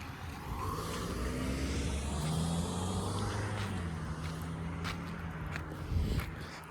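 A car pulls away along a residential street in Brampton, Canada, at night, its engine a steady, moderately loud rumble that slowly fades, with a few light clicks or footsteps near the end.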